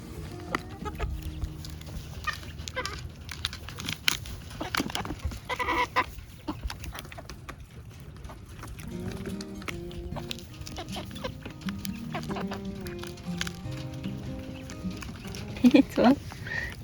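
Silkie chickens clucking inside a farm enclosure, a steady run of close hen clucks and calls over about seventeen seconds, with some rooster-like crowing and a louder burst near the end; a person speaks at times over the birds.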